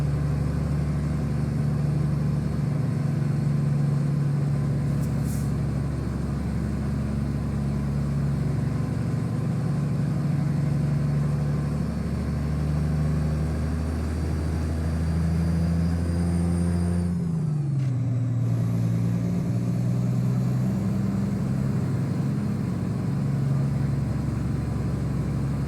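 A truck rumbles along a bumpy gravel road in a driving video game, a steady low engine drone with rattling road noise and a brief shift in pitch midway, loud and continuous with no talking.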